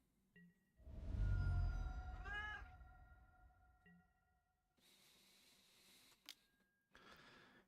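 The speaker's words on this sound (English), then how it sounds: "What are you doing, cat?" A house cat meows indoors, one drawn-out, wavering cry rising and falling in the middle, fairly close, followed by scattered clicks and rustling noises.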